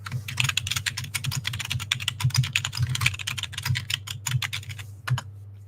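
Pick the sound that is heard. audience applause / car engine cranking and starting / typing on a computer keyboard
typing on a computer keyboard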